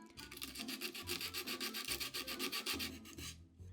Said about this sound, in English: I completed the job using sandpaper since I had better leverage and I had to smooth down the edges anyway